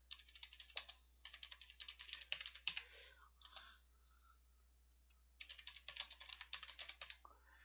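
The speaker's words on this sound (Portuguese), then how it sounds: "eu vou digitar algumas palavras aqui" Quick bursts of typing on a computer keyboard, close and crisp, with clustered key clicks, a pause of about a second in the middle, then another run of keystrokes.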